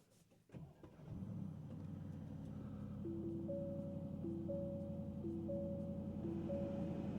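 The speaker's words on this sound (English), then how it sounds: "There's that twin-turbo V8 come to life" A 2026 Aston Martin DBX S twin-turbo V8 starts with a sharp cranking burst and catches. It settles into a steady, deep idle heard from inside the cabin, with faint beeping chimes repeating over it.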